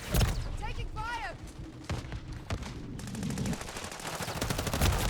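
Gunfire crackles in Call of Duty: Modern Warfare III, with bursts of shots and dense rapid automatic fire that grows fuller in the second half, under speech and game sounds.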